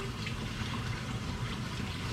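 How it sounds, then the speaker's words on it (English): A steady pour of cold water splashes over homemade butter in a bowl to rinse it, a constant close hiss and gush that neither builds nor fades, with no talking. "So get some cold water in there and you kind of just squeeze it out."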